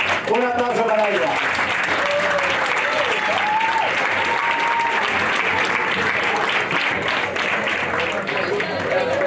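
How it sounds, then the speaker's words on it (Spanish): A crowd applauds steadily and loudly throughout, with cheering voices and a few whistles mixed into the clapping. "Un aplauso para ella."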